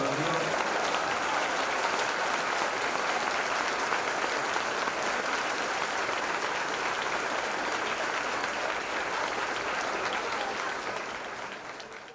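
A church congregation at an evening Bible study applauds, a dense, sustained roar of many clapping hands filling the room evenly before tapering off at the very end.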